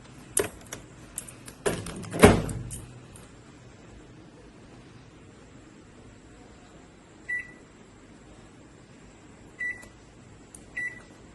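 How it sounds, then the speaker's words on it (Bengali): Microwave oven heating a dish of potato with poppy seed: a few loud clattering knocks at the start, then near-silence broken by three short electronic beeps. "পোস্তটা দিয়ে আবার 2 থেকে 3 মিনিট একটুখানি মাইক্রোওয়েভ করতে দেবেন"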